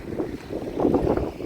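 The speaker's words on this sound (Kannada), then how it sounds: "ಅರೇಬಿಯನ್ ಸೀನ ವೇಗವಾಗಿರುವಂಥ ಗಾಳಿ, ನೀರಿನ ವೇಗ ಹೆಚ್ಚಾಗಿದೆ." Strong wind off the Arabian Sea at Dhanushkodi buffets the microphone in low, rumbling gusts, with rough water churning nearby.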